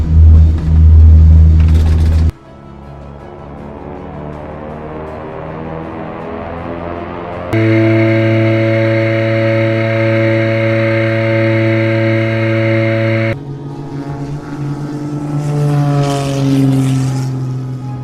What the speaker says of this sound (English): The aircraft began its takeoff roll, and it was already dark at that time.